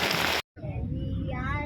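Heavy rain pours down in the late afternoon near Sipocot, a dense, loud, steady hiss that drops out briefly and then resumes, with faint voices underneath.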